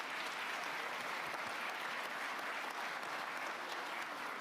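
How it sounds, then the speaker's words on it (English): A conference audience gives a panel a steady round of applause, dense continuous clapping from a large crowd, heard at a distance and fairly soft throughout. "Let's give a round of applause to a great panel."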